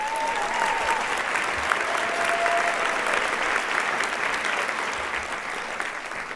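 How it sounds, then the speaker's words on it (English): Steady applause from an audience honoring club candidates at an evening special presentation event, sustained and even throughout with a faint tone or whistle briefly over the clapping. "Please give all our candidates another round of applause."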